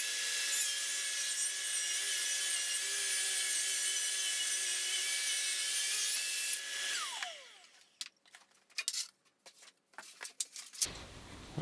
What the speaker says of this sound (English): what I do as I run the saw